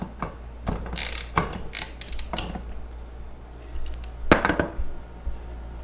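Blade nut being loosened on a Ryobi BC30 brush cutter (model RY30570), heard as a handful of sharp metallic clicks and ratcheting snaps, a cluster early on and another burst near the end, close and fairly quiet.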